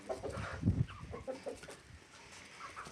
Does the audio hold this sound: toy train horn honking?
no